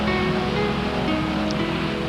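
Ocean waves along the Australian coast, a steady loud wash of surf filling the whole short stretch without any distinct breaks, heard alone.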